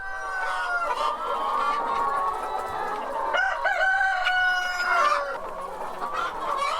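Many chickens cluck continuously on an animal-welfare certified farm in Iksan, where the hens have perches and a floor of soil, rice husks and sawdust. Midway a rooster crows loudly above the flock.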